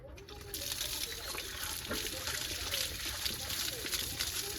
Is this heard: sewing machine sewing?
no